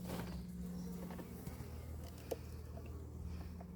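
Outdoors at an apiary near Montgeron, a small honeybee swarm gives off a steady low insect hum with a few faint ticks and taps over it, and no voices.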